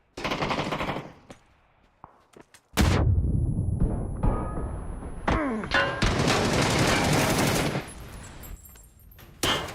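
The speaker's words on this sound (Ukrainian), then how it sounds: "Я кидаю гранату всередину." A grenade tossed into a building in PUBG goes off with a loud blast, followed by bursts of heavy automatic gunfire and explosions that carry on almost without a break.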